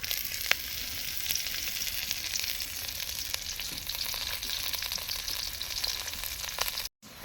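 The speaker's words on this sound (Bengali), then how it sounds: "তো মরিচ পেঁয়াজটা ভাজা হয়ে গেছে" Garlic, onion and green chili sizzling in mustard oil, a steady crackling fry with occasional stirring clicks, close and alone, before a brief dropout near the end.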